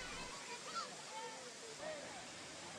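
Agasthiyar waterfall in Tirunelveli, a steady broadband rush of falling water, fairly faint and even, heard alone with no talk over it.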